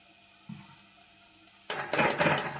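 Red sauce, soy sauce and vinegar are mixed in a bowl: a soft knock, a quiet pause, then a quick burst of clinking spoon-on-bowl strokes in an irregular rhythm, close and fairly quiet.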